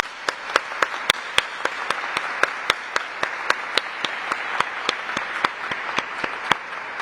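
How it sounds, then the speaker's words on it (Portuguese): Applause at a formal session for the International Day of Persons with Disabilities, steady crowd clapping with a regular rhythm of sharp, louder individual claps standing out above the general patter. "o senhor merece uma salva de palmas"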